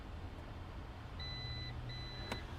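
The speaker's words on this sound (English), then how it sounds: "you're going to hold it down until it beeps, just like this" Two short high-pitched electronic beeps from a held button in a 2022 Jeep Wagoneer Series 2 sound in quick succession over a low background hum, followed by a brief click.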